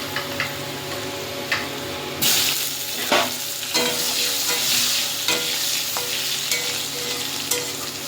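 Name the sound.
potatoes and eggplant frying in oil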